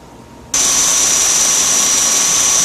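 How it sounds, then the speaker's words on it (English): A belt grinder, used while working on a Harbor Freight #33 hand plane, switches on abruptly after a moment of quiet and runs at a loud, steady, high-pitched whine close by. "This is the belt grinder."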